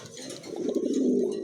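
A male Andalusian pigeon coos close by, a low, throaty rolling call that swells and pulses over a second and a half.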